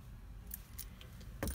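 Faint metallic jingling of a Lifan car proximity key, a few light scattered clinks ending in a slightly louder jangle, close but quiet.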